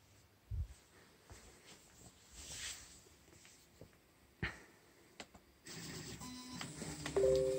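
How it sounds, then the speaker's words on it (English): A 3D printer sits idle while its heated bed switches on and off, giving a faint low hum with scattered soft clicks and ticks that grows into a steadier buzzing whine in the last seconds, close and without talk. "there is still quite some noise. This comes from the heated bed turning on and off."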